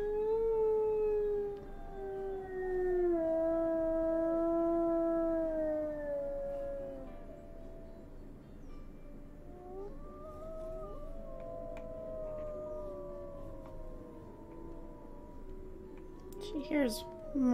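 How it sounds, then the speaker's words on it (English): Wolves howl in the distance in the video game WolfQuest, several long rising and falling calls overlapping and trailing off one after another, fairly faint over a soft low background, with a brief sharper burst near the end. "She hears wolves howling in the distance and answers their call."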